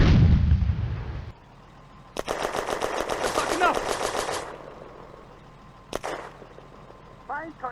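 Tank guns and machine guns fire in a World War II Eastern Front war game with Panzer IVs and a BT-7, heard as a dense burst of rapid gunfire, a sharp later shot, and engine rumble, with game voices speaking.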